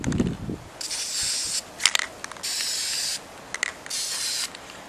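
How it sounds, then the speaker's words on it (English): Spray paint hisses out in several separate bursts of about a second each, with short pauses and light rattling and rubbing between them, close by. "You're just spraying it on very randomly."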